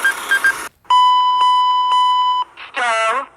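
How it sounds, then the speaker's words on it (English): An aircraft stall warning alarm. A short burst of rapid chirps gives way to a loud, sustained electronic tone that pulses several times, then a quick warbling, falling tone follows. "Stall warning."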